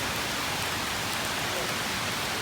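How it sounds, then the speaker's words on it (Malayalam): Steady rain falls outside a hotel, a dense, even hiss of drops that holds without a break from start to end, with no clear voices above it. "മഴ പെയ്യൽ വെളിയിൽ സ്റ്റിൽ."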